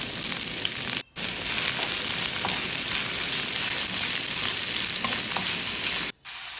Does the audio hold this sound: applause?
no